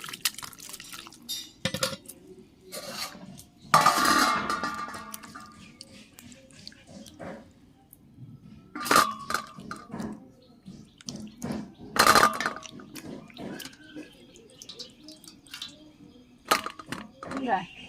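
Cut potato pieces and ash gourd are washed by hand in water, with intermittent splashes and sloshing alongside clinks of dishes and utensils, while a voice talks at times.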